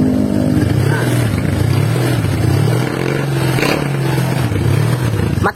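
A Honda Vario 150 motorcycle engine, being checked for a battery-draining fault, idles close by with a steady drone that swells gently a few times under light throttle.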